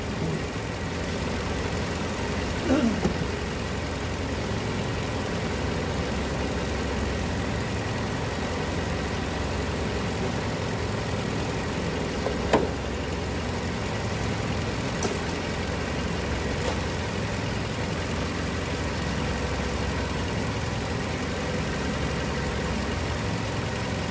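A Toyota Camry SE engine idles steadily with a low, even hum, checked after an overheating repair, with no voices over it.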